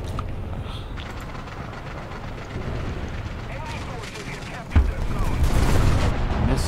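Missiles fire in War Thunder, a tank battle video game set in an abandoned factory: a low, rumbling battle din builds to a sharp, loud blast and a rolling roar, with someone talking throughout.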